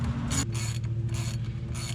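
A 3/8-inch drive hand ratchet spinning wheel bearing bolts in on a 1999 Dodge Caravan, heard as a few bursts of rapid clicking over a steady low mechanical hum, close up.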